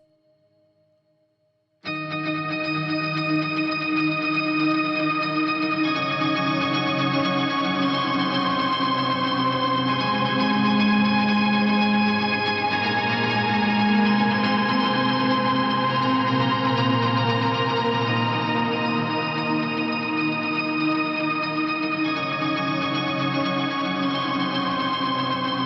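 A layered guitar loop with light modulation plays back from a looper pedal, a dense sustained wash of echoing, reverberant chords that starts abruptly after a short silence and holds steady and loud to the end.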